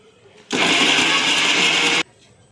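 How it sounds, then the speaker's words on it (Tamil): A kitchen mixer grinder whirs loudly and steadily for about a second and a half, grinding fennel seeds and other spices into a paste for egg gravy, starting and stopping abruptly with quiet before and after. "இப்போ நம்ம இதில் இது எல்லாமே போட்டு நம்ம மிக்சியில் ஆட் பண்ணி அரைச்சிக்கலாம்"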